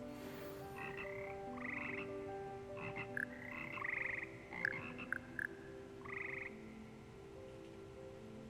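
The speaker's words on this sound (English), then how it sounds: "Here perch the slimy yet symphonic frogs that comprise the Hogwarts Frog Choir." Slimy magical frogs of the Frog Choir in Hogwarts Legacy croak in sustained, pitched tones that layer into a harmonised chorus, with short chirps over a soft rainy background, heard alone.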